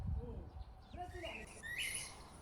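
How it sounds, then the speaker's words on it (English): Caged bird kept at a doorway in a rural Chinese village, giving faint, quick chirps and short tweets, with people talking nearby. "There's also a bird kept at the doorway, chirping non-stop."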